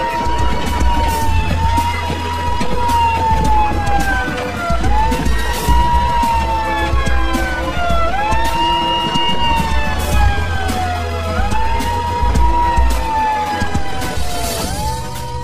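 A loud wailing siren rises and falls in repeated sweeps over a steady low rumble, sounding close and continuous throughout.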